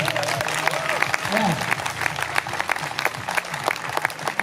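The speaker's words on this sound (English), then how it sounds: "So let's start with some clapping." Street festival show audience clapping in Essen, scattered uneven claps over a noisy outdoor crowd, with a performer's voice and other talk running over the top.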